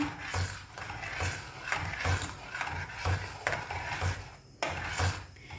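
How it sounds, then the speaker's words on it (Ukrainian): A spoon scrapes and knocks rhythmically against a pot of rice milk porridge, stirring in a steady repeating pattern of soft thuds and scraping. "Все це гарно перемішуємо."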